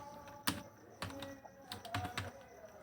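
Keys tapped on a computer keyboard while typing in Microsoft Word, a handful of distinct clicks and a few quicker clustered presses, fairly faint and close, with no talking.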